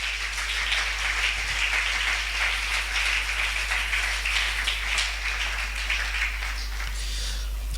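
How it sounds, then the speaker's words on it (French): Church congregation applauding during a worship service, a dense, steady wash of clapping that holds at an even level for the whole stretch with no talking. "Est-ce que tu peux applaudir pour ce Jésus-là?"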